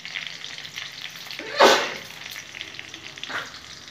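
Onions fry in a hot pan for a khichuri of lentils and winter vegetables, giving a steady sizzle with a louder burst as the pan is stirred midway, then a brief second swell.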